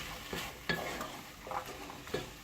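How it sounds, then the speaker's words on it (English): A spoon scrapes and stirs through bolognese sauce in a pan in several short strokes, with a soft sizzle of frying underneath. "Give that a good mix."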